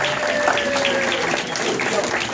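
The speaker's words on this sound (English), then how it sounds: "give Eddie a round of applause, please." A crowd at a polka music show applauds steadily, dense clapping filling the whole moment, with voices mixed in beneath.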